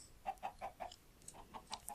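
Chickens cluck in Minecraft, a quick run of about eight short, soft clucks in an even rhythm, a little distant and faint.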